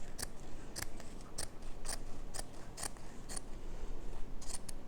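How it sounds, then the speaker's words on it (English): Not-so-sharp scissors snip through an old T-shirt in about a dozen crisp, close cuts at a steady, quick rhythm over a quiet background. "don't have the sharpest scissors here, but they work"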